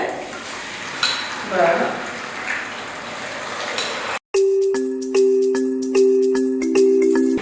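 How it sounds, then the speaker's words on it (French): Potatoes sizzle and crackle steadily in a hot pan while browning for a potato and beef stew, with a spoken word partway through; after about four seconds, the frying gives way to bright tonal music. "Je veux venir faire frire pour donner une belle couleur à mes pommes de terre."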